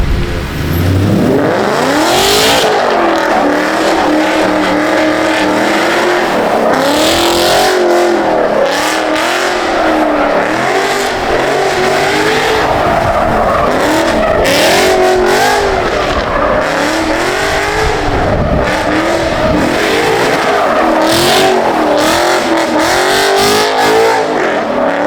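A 700 HP Corvette C6 Z06 drifting, its engine roaring loud and continuous with rising and falling revs, wavering pitch through slides and tire noise layered on top for the full stretch; no speech.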